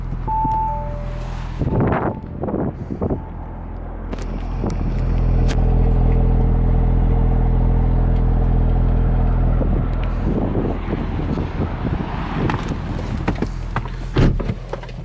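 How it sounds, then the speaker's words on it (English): A 2018 Audi S5 Sportback exhaust rumbles steadily at idle, a low drone swelling in the middle, with footsteps and a door sound near the start. "I'll hop out of the car so you can hear the exhaust."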